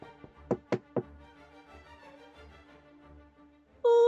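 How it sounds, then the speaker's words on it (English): Three sharp knocks land on a wooden cottage door, a wolf rapping at grandmother's house in the Little Red Riding Hood tale, evenly spaced and close, with a brief tonal sound cutting in at the end. "He knocked on the door."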